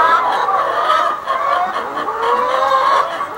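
Morning flock of chickens freshly let out of the coop on a farm, a steady chorus of overlapping clucks and squawks, fairly close and continuous throughout with no talking.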